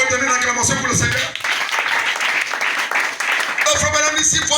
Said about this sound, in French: Vous pouvez donner une acclamation pour le Seigneur.